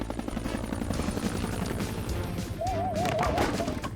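A cartoon helicopter belonging to Stella, the pilot, whirs and drones steadily throughout, blended with a busy animated soundtrack and a brief warbling tone near the end.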